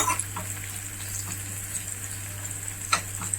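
A phodni of curry leaves and asafoetida sizzles softly in a pan with the gas turned off, a faint, even crackle under a steady low hum, with a few brighter pops near the end.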